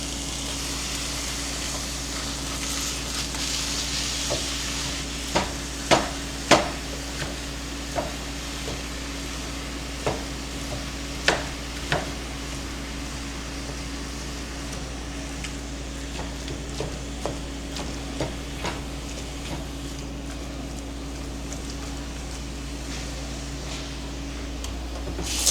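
Ground meat frying in a pan is broken up and stirred, a faint steady sizzle under a constant background hum, punctuated by scattered sharp taps and scrapes of a utensil against the pan, with no talking.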